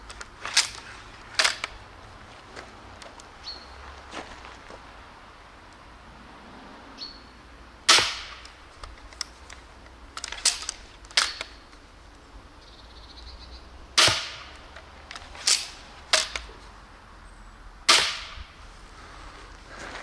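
Crossbow bolts are shot into a Schweinebraten (roast pork) target, each release and impact a sharp, loud snap, scattered as isolated cracks and small clusters across a quiet background.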